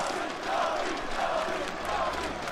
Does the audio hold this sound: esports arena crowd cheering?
yes